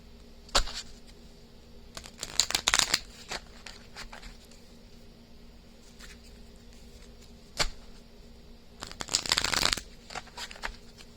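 Someone shuffles a deck of playing cards for a reading, making two crisp riffling bursts with scattered taps and card handling between them. The sound is close and clear, and no one speaks.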